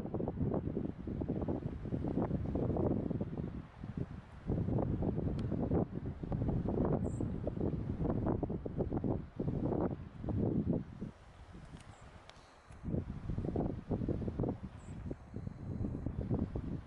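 Gusty wind roars across a forest trail in the Boundary Waters, buffeting the microphone in loud surging waves that briefly ease before rising again, with no voices.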